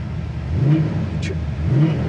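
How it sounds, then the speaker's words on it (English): A 1969 Pontiac Firebird 400 restomod revs through its dual exhaust, a deep, rumbling engine note that swells twice in quick succession, close and loud, with no talking. "They even spent the money on just the great, nice sounding dual exhaust."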